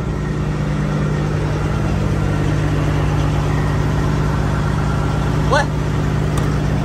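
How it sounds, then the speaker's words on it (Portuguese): A truck left running with its engine idling at a stop, a steady low rumble holding evenly throughout, with a short word spoken and a brief chirp near the end. "Olha, ele largou ligado o caminhão."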